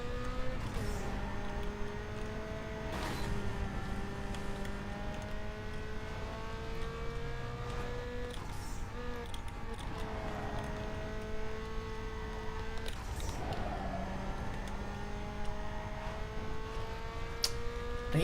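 A Nissan Skyline races in Need for Speed Underground 2, its engine note rising and falling through repeated gear changes, with steady revving harmonics and occasional whooshes of passing traffic, loud and continuous throughout.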